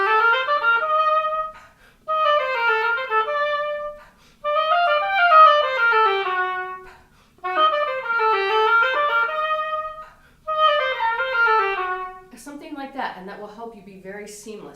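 An oboe plays a sixteenth-note run from the Allegro of Handel's Sonata No. 1, loud and close, in several phrases separated by short breaths, with a brief spoken remark at the end.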